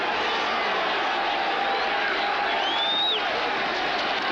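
A dense football stadium crowd at a 1983 49ers vs Patriots game in New England roars as a continuous wash of noise, with a faint whistle-like tone rising and falling partway through.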